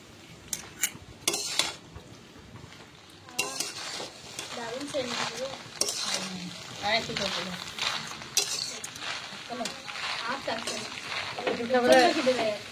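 Rice being stirred in a pan with biryani masala, salt, kewra water and rose water, spoon scraping and clinking against the metal with faint sizzling, close and uneven, while a voice talks over it.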